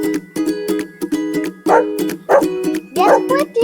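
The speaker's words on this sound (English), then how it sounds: "Excellent, it's a dog." A dog barks repeatedly in quick, yapping bursts over a steady tonal musical backing, loud and close, with some whimpering yips mixed in.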